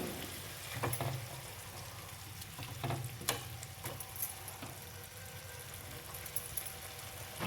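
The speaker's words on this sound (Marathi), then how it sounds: "आता उकळी आलेली आपल्या भाजीला" A mixed vegetable curry boiling in a pan, cooked with just enough hot water for a dry bhaji, gives a soft, steady bubbling and sizzle with occasional faint clinks and splashes, quiet and close.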